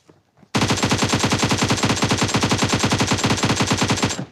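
Sustained machine gun fire in a video game, a loud continuous burst of rapid rounds after a brief quiet start, running for about four seconds.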